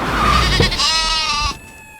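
A goat bleats loudly and close, one long wavering cry lasting over a second before stopping abruptly into near quiet.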